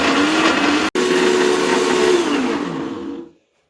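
A blender whirs loudly and steadily through a gluten-free prawn toast mixture, its motor pitch drifting as the paste thickens, with one abrupt momentary cut before it winds down and stops near the end.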